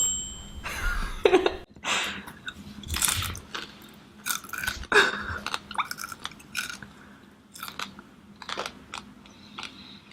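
Someone chews a giant edible ant, producing close, crisp crunching in irregular bursts of bites and grinding over about ten seconds, with brief pauses between clusters of crunches.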